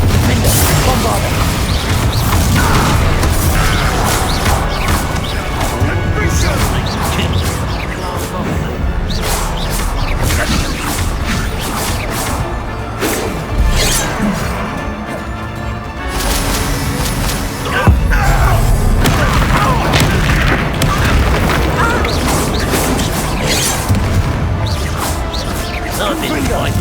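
Bombarda spell explosions in the Hogwarts Legacy video game, dense blasts, crashes and booms that continue almost without pause, mixed with game sounds and shouting voices.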